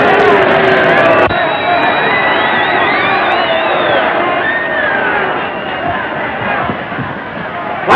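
A boxing-match crowd roars and cheers loudly and continuously, a dense wall of shouting voices with whoops rising above, easing slightly toward the end.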